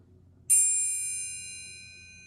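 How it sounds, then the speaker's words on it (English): A triangle struck on its bottom arm gives a single bright metallic strike with a shimmer of high overtones that sustains and slowly fades. "if you hit the bottom arm"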